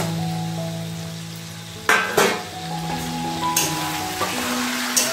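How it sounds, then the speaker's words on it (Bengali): Chicken and potatoes sizzle and fry in a pot for a home-style chicken biryani, with a steady frying hiss and a few sharp scraping stirs and clinks of a utensil against the metal. "অল্প মাংসটা কষা হয়ে এলেই আমি দিয়ে দেবো এর মধ্যে আলুগুলো।"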